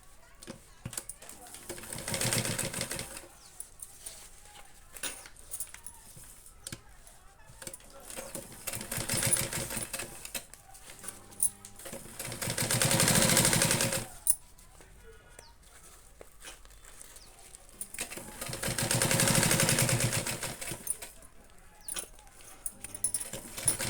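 A sewing machine stitches a small handbag with an attached zip chain, whirring in several bursts of a few seconds each, and between them someone talks as she sews.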